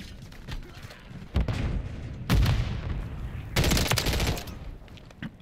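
Bursts of automatic rifle fire from a DG58 with JAK Nightshade attachments in a first-person shooter video game, loud rapid volleys separated by short lulls, heard three times in close succession.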